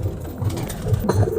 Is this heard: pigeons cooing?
yes